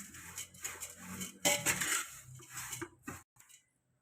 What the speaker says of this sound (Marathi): पोहे मंद आचेवरच भाजून घ्यायचं।